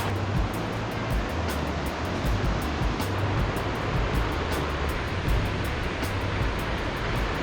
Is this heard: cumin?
no